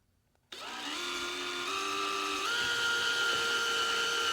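A cordless drill driver chamfering a hole starts abruptly and runs as a steady, close, high-pitched whine, its pitch stepping up slightly as the bit spins on.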